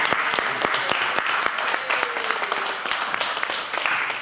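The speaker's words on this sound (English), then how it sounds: "can we just have a round of applause for Dr. Carter for leading this whole thing?" A crowd applauds at an exhibition opening night in Paris, a dense burst of clapping from many hands, close and lively, with a few louder individual claps standing out.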